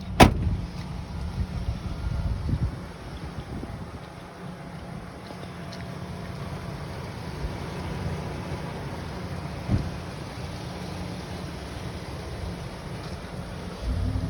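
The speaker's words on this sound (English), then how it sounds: "Vehicle is running." A 2003 Ford Ranger Super Cab Edge 4x4 idles at a used-car lot, a steady low rumble with a brief louder burst at the start, heard alone without talk.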